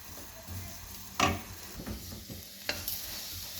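Okra roasting in a pan while being stirred, a soft sizzle broken by a couple of sharp scraping clatters of the spoon against the pan, close by.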